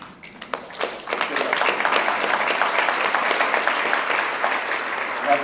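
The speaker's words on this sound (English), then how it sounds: "You have to clap for a picture that's now a postage stamp," Keynote conference audience breaks into sustained applause, a dense wash of many hands clapping that swells quickly and holds steady throughout, with no voices rising above it.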